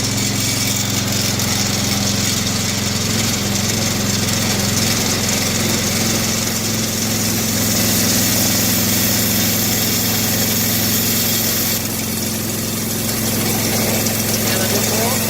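A DACK SMP 13/85 engine runs loud and close just after starting, with a steady, dense rumble and a constant drone, and someone talks over it.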